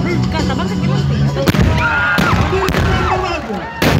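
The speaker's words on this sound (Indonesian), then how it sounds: "personil demolisi diperintahkan untuk meledakkan sasaran" Marines set off a military demolition explosion of a target building at an anniversary show in South Sulawesi, heard as several sharp, loud blasts and cracks over a noisy outdoor crowd with an announcer speaking.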